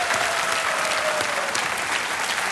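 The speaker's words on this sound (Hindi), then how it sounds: "तालियों के साथ इनका स्वागत करते हैं।" A television quiz-show studio audience on Kaun Banega Crorepati applauds to welcome the contestants, a loud, continuous wash of clapping with a faint tone running beneath it.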